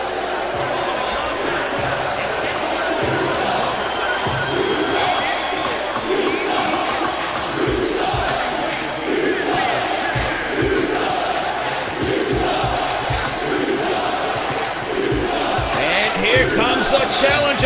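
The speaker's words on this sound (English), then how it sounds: "And the crowd's letting him know what they think about him here in Hotlanta." Wrestling crowd at a live event in Atlanta jeering the challenger, a steady roar of mass shouting and booing in a large hall, with a commentator talking over it.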